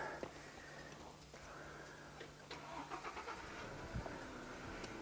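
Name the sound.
car engine being restarted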